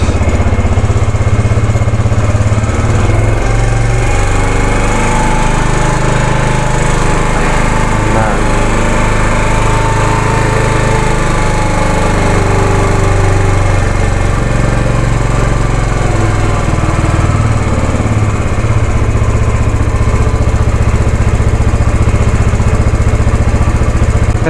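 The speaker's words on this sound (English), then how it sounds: "Nagbago ho yung tono ng makina natin." A Yamaha YBR 125 motorcycle fitted with an upgraded Mio LHK stage 1 5.5mm camshaft and converted cam gear runs steadily at idle, a loud, close, even mechanical drone that holds throughout.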